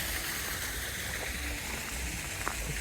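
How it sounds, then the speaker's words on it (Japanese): Small waterfall beside an old hand-cut rock path in Kanagawa, a steady broad rush of falling water filling the scene at moderate level, continuous and close, with no talking. "小さな滝がありますね。"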